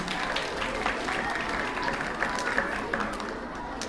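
Audience applause at a 3rd–4th grade school spelling bee, a steady wash of clapping from a seated crowd that holds for the full stretch at moderate loudness, with murmured voices underneath.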